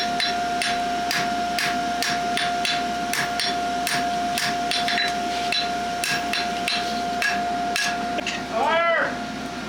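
Rhythmic metallic hammer blows on steel ring out, evenly spaced and fairly loud, over a steady ringing hum, ending with a brief whooshing sound; a farrier forging a horseshoe.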